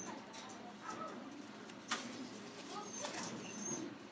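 Fancy pigeons at a farm, soft cooing and occasional wing flaps from several birds close by, over a faint busy background with muffled voices.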